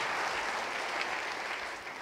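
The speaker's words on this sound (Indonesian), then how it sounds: "Beri tepuk tangan yang baik bagi dia." Congregation applause during an online Sunday church revival service, a continuous, soft, even wash of clapping that fades slightly at the end.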